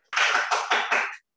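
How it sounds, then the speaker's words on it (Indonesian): Applause for a presenter at the end of an online webinar session, heard as four quick, rough bursts of clapping noise in just over a second, then a sudden stop. "Tepuk tangan online untuk Ibu"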